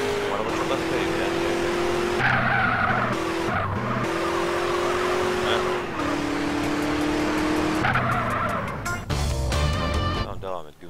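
Tires squeal repeatedly as a car skids in the video game GTA San Andreas, long sustained screeches over engine roar, with people talking throughout.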